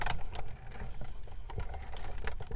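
Die cutting machine rolling a stack of three sheets of cardstock through its rollers, giving a close, uneven crackling and ticking patter with small clicks and low rumbles throughout, no talking.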